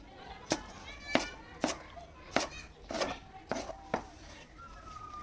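A knife chops through tomatoes on a board in a home kitchen, giving about eight sharp, evenly spaced cuts roughly every half second, close and clear with faint background room noise.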